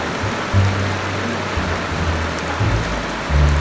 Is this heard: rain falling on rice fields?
yes